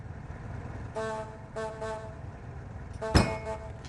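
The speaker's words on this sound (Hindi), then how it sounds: "मैंने कहा था इनसे कि बार बार हॉर्न मत बजाना।" A vehicle horn honks in two separate bursts of bright, tonal blasts, then a sharp loud knock follows near the end. The horn sounds over a steady low rumble with no talking.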